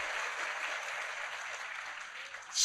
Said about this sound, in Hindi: तो ताली तो बजाओ अपने लिए।